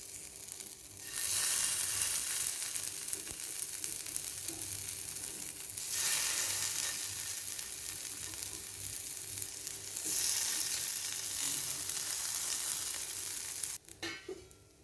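Vegetable oats cutlets fry in a little oil in a pan, giving a soft, steady sizzle that swells and eases in waves, with faint crackles and a light clatter near the end.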